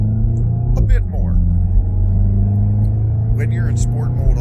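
A 2024 VW Golf GTI in sport mode accelerates moderately, its steady engine drone and low exhaust rumble rising gently with revs, heard from inside the cabin while a person talks over it.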